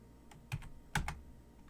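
A computer keyboard types a router command during network configuration, about five quick, close keystrokes in a short burst with clear gaps, quiet room, no talk.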